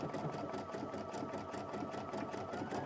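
An Aveneer sewing machine with a projector runs on its slow speed setting. It gives a steady, quiet, even mechanical hum with a soft, regular stitching pulse throughout, and no voices are heard.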